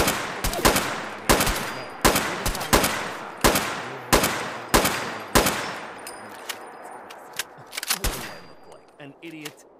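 Rapid bursts of loud gunfire from a weapon in Fallout 4, several sharp shots in quick succession with a few scattered shots trailing off near the end.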